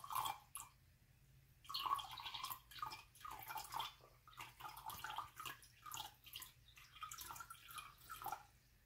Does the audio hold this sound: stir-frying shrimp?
no